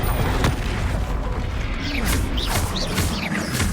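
Spell explosions and blasts from the Hogwarts Legacy video game, a dense, loud stream of booms and crashes with whooshing sweeps layered on top, continuous throughout.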